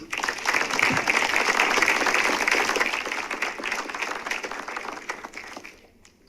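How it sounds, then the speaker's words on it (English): A college audience claps for honoured former lecturers and a former dean, steady, full applause swelling early and then tapering off toward the end. "Let's give them a hand clap."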